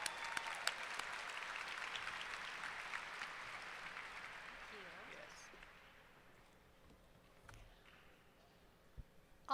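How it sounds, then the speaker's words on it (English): Applause from a large audience at a 2013 community college commencement ceremony, steady and full at first, then thinning and fading out over the last few seconds. "Let's give her a big round of applause."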